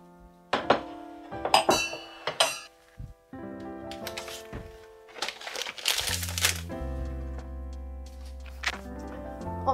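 Dishes clinking while washing up at home after a meal, a run of irregular clinks, clatters and knocks of plates and glassware with running-water hiss, close and intermittent with no talk.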